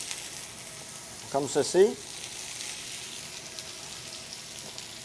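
Broccoli, cauliflower and mushrooms tip into a hot pan and break into a brief burst of sizzling, then settle into a quieter, steady frying hiss while a voice speaks briefly.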